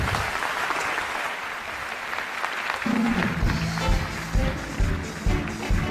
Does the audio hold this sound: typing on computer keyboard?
no